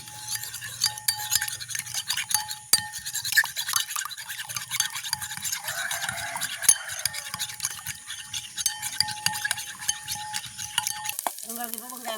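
Quick rhythmic clinking and whisking of a utensil beating eggs in a bowl, close up, continuing steadily with a faint background hum.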